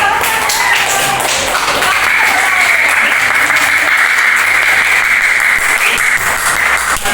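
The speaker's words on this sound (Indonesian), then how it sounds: "Mari kita beri tepuk tangan untuk teman-teman kalian yang sudah berani maju." Classroom applause from students clapping for classmates who came to the front to present, a dense steady wash of many hands lasting throughout, loud and close, with a faint tonal murmur underneath.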